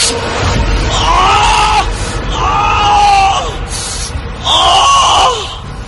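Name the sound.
man screaming in pain, horror audio drama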